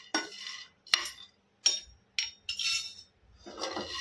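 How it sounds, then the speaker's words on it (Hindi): Already-roasted chickpeas with their skins are stirred in a hot pan, a spoon scraping and clinking in about six separate bursts of rattling, close and fairly loud, with no voices. "तो हमने चनों को सिर्फ एक या दो मिनट के लिए भून लेना है"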